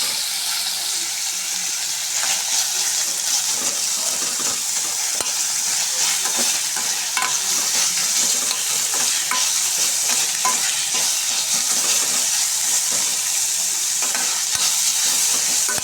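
Ingredients sautéing in a pan for mango pachadi, a loud, continuous hissing sizzle with occasional stirring clicks, close and steady throughout.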